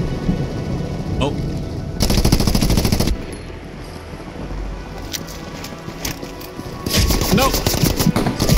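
Video game machine gun fire rattles out in two loud sustained bursts plus a few shorter volleys over steady background wind and ambient noise, with a player talking over it.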